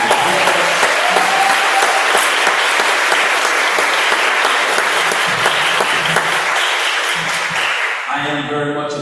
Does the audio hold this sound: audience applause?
yes